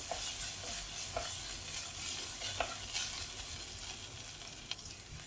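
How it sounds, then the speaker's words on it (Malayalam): Green chillies, ginger and garlic sautéing in a pan for a raw mango dish, giving a quiet, steady sizzle broken by occasional soft scrapes of stirring, with no talking. "ഇഞ്ചിയും പച്ചമുളകും വെളുത്തുള്ളിയും എല്ലാം നന്നായിട്ട് വഴന്ന് വന്നിട്ടുണ്ട്"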